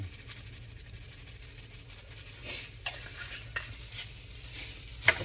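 A spoon stirs a seasoning mix for a fried pickle dip in a bowl, giving soft scraping swishes with a few sharp clinks against the dish over a low steady background hum.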